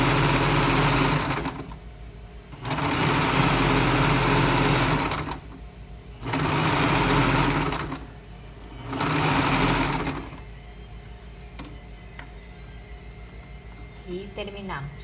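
Sewing machine stitching the crotch seam of women's trousers, running in four steady bursts of roughly two seconds each with short pauses between, close and fairly loud, ending in quieter handling noise.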